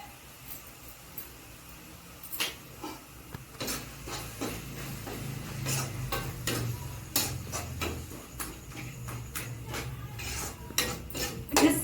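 A spoon stirs a ground paste of fried coriander, ginger, garlic, cinnamon and clove into mushroom gravy in a pan. Irregular clinks and scrapes of metal on the pan sit over a low, soft sizzle.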